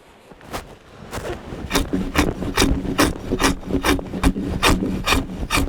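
A drawknife (skobel) scrapes a Siberian cedar log, shaving the bark down to the sapwood in rapid rhythmic strokes. Each pass gives a dry, raspy wood rub, close and steady, with no voices.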